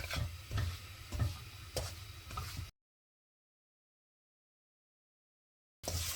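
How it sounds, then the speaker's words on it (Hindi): Flour roasting in ghee in a pan on medium flame, with rhythmic stirring scrapes and a light sizzle for a few seconds, then a long silence before the stirring briefly resumes; no talking. "आटे को हमने भूनना है घी में।"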